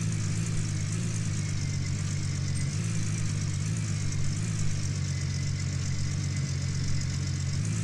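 A truck engine idles steadily in Gold Rush: The Game, a continuous low rumble with a constant hum and no change in pace, heard alone without talk.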